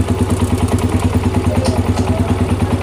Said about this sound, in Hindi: यहाँ पे देखें बिल्कुल इंजन हमारा बिल्कुल स्मूथ चल रहा है